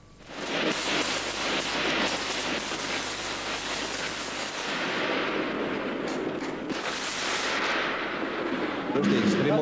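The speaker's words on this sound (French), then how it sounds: "la fusillade éclate, une bonne vingtaine de coups de feu et des rafales d'armes automatiques ensuite" Dense, continuous crackle of gunfire, some twenty shots followed by automatic weapon bursts, overlapping with heavy rumble, loud and sustained throughout, with voices faintly mixed in.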